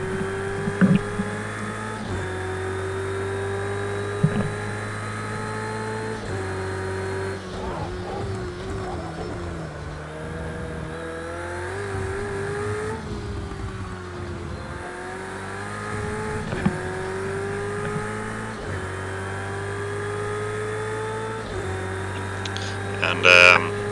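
A GT3 race car drives a lap in Project Cars 2, with a steady engine drone rising and falling through gear changes and speed shifts, heard loud and alone with occasional sharp clicks.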